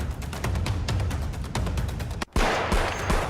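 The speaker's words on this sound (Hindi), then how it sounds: "बांसवाड़ा में जमकर बीजेपी कार्यकर्ताओं ने आतिशबाजी की।" Rapid crackling bursts of fireworks set off by BJP workers celebrating in Banswara, a dense run of sharp pops with a brief gap, then continuing loud and close.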